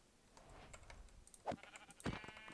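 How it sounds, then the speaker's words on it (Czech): Sheep in the Minecraft video game bleat twice in short, fairly close calls against quiet background noise, with no talk over them. "Máme ovce, dobrá."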